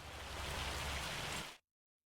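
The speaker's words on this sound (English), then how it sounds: "I don't know if rain affects things even more now." Rain falling in Farming Simulator 25, a steady hiss of downpour on surfaces that stops abruptly into silence, heard faintly and without talk.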